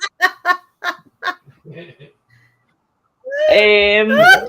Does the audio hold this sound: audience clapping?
no